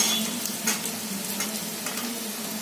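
Potato, french beans, cabbage, carrot and capsicum fry with softened onion in a pan for spiced vegetable rice, giving a steady close sizzle broken by a few soft stirring scrapes.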